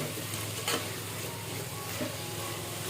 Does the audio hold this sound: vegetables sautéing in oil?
yes